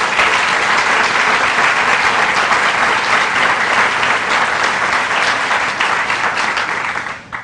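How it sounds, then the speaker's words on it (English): At a pharmacy school groundbreaking ceremony, an audience claps loudly for the campaign committee, a thick and constant roar of many hands that holds for several seconds before tapering off abruptly. "Would you please recognize and applaud for all of them as well?"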